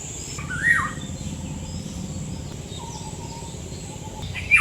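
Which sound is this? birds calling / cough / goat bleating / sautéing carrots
birds calling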